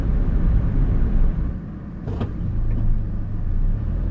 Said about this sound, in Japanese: 発進時のアイドリングストップからの始動や加速時など、エンジンルームから来る音がうちのハイウェイスター G ターボより確実に静かになっています。